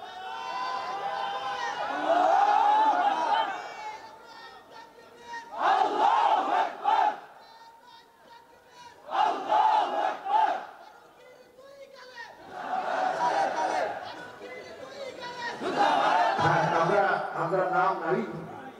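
A large crowd chants the takbir slogan loudly in repeated call-and-response bursts: a swelling roar of many voices about every three to four seconds, separated by short lulls.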